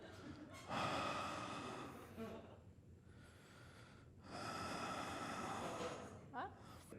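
A man performs heavy, exaggerated breathing as if into someone's ear on a metro train, with two long, loud, raspy breaths split by a short pause and a brief snort near the end.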